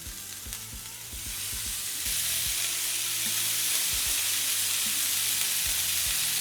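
Bacon-wrapped LA-style street hot dogs sizzle in a pan, a steady frying hiss that swells louder after they are set down, with clanks and scrapes of handling along the low end.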